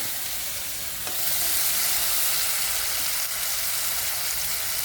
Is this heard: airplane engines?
no